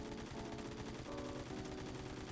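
Rapid automatic gunfire while aiming down sights with a laser attachment in the video game Phantom Forces, a continuous dense rattle of shots lasting the whole stretch with brief shifts in tone.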